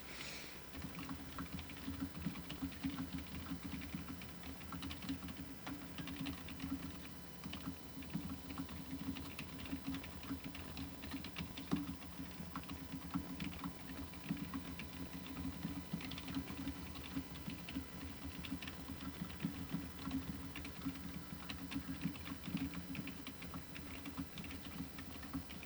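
Continuous fast typing on a keyboard with oversized letters and numbers, a rapid, even patter of key presses kept up for the whole stretch, close and fairly soft.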